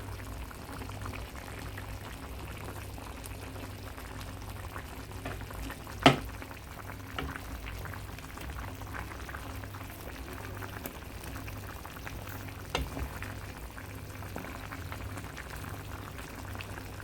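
Curried chicken back bones boil in a pot on a home stove, a steady low bubbling simmer with one sharp clink partway through and no talking.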